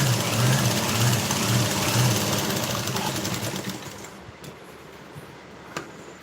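A sewing machine runs in a steady mechanical whir while stitching a princess-cut blouse. The hum is loud for about four seconds, then drops away, leaving faint room noise and a couple of small clicks.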